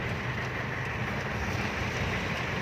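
Heavy rain pours down during a strong windy storm, a dense, steady roar that stays loud and unbroken throughout with no voices over it.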